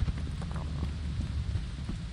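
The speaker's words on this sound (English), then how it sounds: "Why is it raining?" Rain falls steadily in the video game Harmful Corporation, a continuous low patter with faint rumbling, with no voices.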